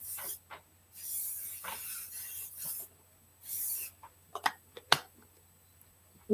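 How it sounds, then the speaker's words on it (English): Hair lotion sprayed onto natural curly hair in several short hissing bursts, close to the microphone, with quiet rubbing and handling sounds between them. "I'm gonna spray it with some of this Lotion"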